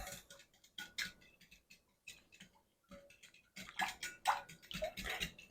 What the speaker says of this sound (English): We're going to whisk them in.